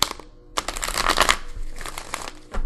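Tarot cards being shuffled by hand in quick riffling bursts, close and crisp, with a brief pause early on before the shuffling resumes.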